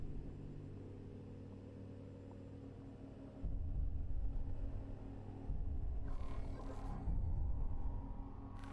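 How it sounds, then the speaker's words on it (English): Deep thunderstorm rumble drifting through space in a video game, a steady low roar that swells louder in a few broad surges with faint crackles above, no voices. "There's literally like thunderstorms in space."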